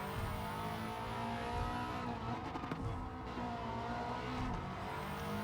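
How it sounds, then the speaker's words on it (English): Subaru Impreza WRX STI in Gran Turismo 7 at Tokyo Expressway, its engine revving steadily and loud in close continuous drone with rising and falling pitch, brief tire noise mixed in. "I can sacrifice a bit under braking by revving the car really high"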